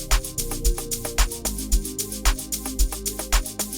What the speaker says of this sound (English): So this is how our pluggy pad sounds like